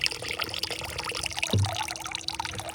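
Irrigation water pours and trickles steadily from an opened channel into a rice field, a continuous outdoor flowing and splashing with a brief louder gush partway through.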